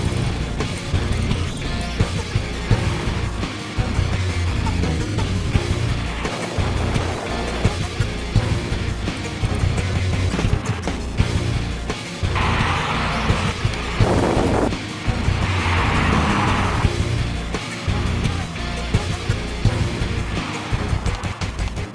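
Performance cars driven hard along a twisty road, with broadband engine and road roar plus wind buffeting throughout, swelling at moments, steady and fairly loud without speech.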